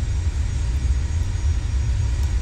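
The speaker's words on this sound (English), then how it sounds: "Oh, the engine's online" Steady low engine drone from a vehicle in the naval combat game From the Depths, a continuous loud rumble holding evenly throughout with no talk over it.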